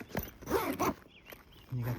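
A zipper closes a pouch on a Rainsomre waterproof 15-litre e-bike trunk bag in a few quick, scratchy pulls, close and fairly soft.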